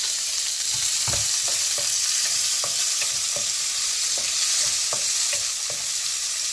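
Mustard seeds, cumin and urad dal fry in hot oil with a steady, bright sizzle, while a spoon stirs them in soft, regular scrapes and taps. Nobody speaks.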